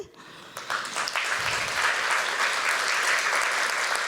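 Audience applause fills a hall at an arts summit keynote, swelling from a quiet start into steady, dense clapping from a large crowd that carries on without pause.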